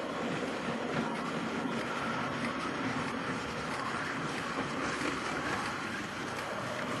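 A continuous rumbling roar of a train, steady and broadband, with faint clattering throughout and no talking.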